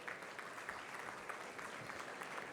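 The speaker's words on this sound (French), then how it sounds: "sous vos applaudissements s'il vous plaît" An audience at a French real-estate conference claps steadily and quite faintly, giving a dense and even round of applause with no voices over it.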